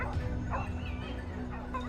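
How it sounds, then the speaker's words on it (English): Hunting dogs yelp and bark during a wild boar chase in a forest, sharp excited cries over a continuous low rumble of outdoor noise, dense and fairly close. "The hunting dogs pressured a target, their barking relentless"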